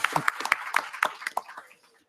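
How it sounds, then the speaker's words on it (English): A brief scattering of hand claps at a UN climate conference side event, fairly close, fading out after about a second and a half. "Round of applause."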